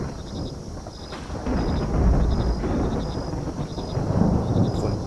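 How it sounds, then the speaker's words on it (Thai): Steady rain and a deep rolling thunderstorm rumble fill a video game scene, loud and continuous with no clear voices. "ฝนตกแล้วต้องรีบเข้าบ้านครับ"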